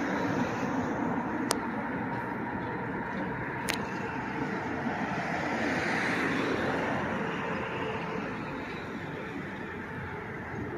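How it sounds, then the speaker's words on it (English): Street traffic in Utica, New York, heard from a bike path: a steady, fairly loud roadway roar that continues throughout, with a couple of faint clicks and no talking. "That lovely traffic noise."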